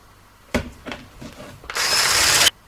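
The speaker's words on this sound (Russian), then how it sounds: "И очень хорошо взбиваем" Baursak batter with a pinch of salt being whisked vigorously in a bowl: a few sharp knocks, then a steady, loud, bright whirring scrape that runs for under a second before cutting off.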